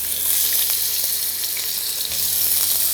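Potatoes dropped into hot oil for lau malaikari, a bottle gourd curry, fry with a steady, close hiss that continues without a break throughout.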